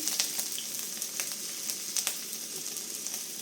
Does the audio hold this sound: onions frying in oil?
yes